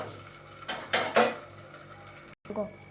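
A plate lands as a lid over a jowar-flour thalipeeth in a pan, giving a few quick close clatters over a faint background hum, then a brief cutoff and one last soft knock.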